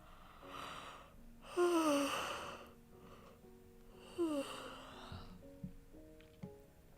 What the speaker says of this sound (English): Sorry already for all the yawns.